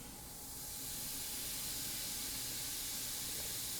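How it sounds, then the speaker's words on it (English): A squeezed toy wand sprays water over bubble and fizz dust in a Magic Mixies Pixlings water-magic set. The result is a soft, continuous spray hiss that swells after the first moment and holds steady, faint and close, with no talking. "you squeeze the wand to drizzle all the water over the bubble and fizz dust"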